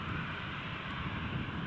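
A TUI airliner bound for Las Palmas taxis at Newcastle Airport, giving a steady distant engine rumble and whine that holds even and unbroken through the short stretch.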